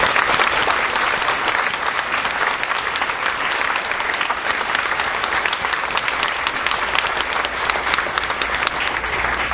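A crowd at a sixth-grade graduation ceremony claps for the graduating students, a dense, steady round of applause that holds at an even level throughout with no one speaking over it.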